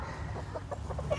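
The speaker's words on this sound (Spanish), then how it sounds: "A ver si no se me sale aquí la gallina" A hen clucks while being held and checked for fowl pox, giving a quick run of soft, close clucks over a low background hum.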